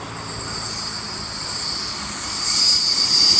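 A Sydney V-set passenger train rumbles past with a steady broadband roar and a high, thin wheel squeal that swells toward the end.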